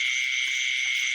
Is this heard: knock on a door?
no